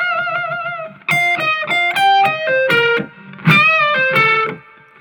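A bluesy electric guitar lick in minor and major pentatonic, played slowly with a string bend and a pull-off, its notes ringing in a distinct melodic phrase with light overdrive.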